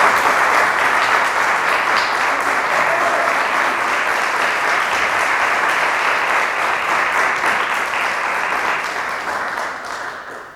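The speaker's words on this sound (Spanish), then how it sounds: "les quiero pedir un aplauso para él" Loud, sustained applause from a large crowd, dense and even, tapering off at the end.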